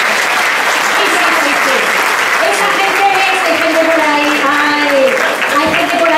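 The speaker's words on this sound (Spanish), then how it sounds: "Yo a esos esta noche les quería dedicar un fuerte aplauso." Audience applause at a live comedy monologue show, a steady, dense wash of clapping from a full house that carries on for the whole stretch, with a performer's voice rising over it.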